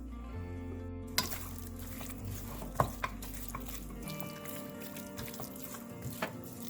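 Soft scraping and clinking of a utensil stirring spices and pepper powder in a pan of mutton over a steady low hum, with occasional light taps.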